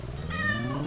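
Short, high, cute meow from a cat in the video game Spirittea, a single clear call rising and falling in pitch over a soft game background with no talk.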